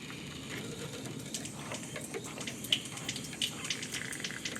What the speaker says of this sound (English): as you can hear, there is some water that are coming through there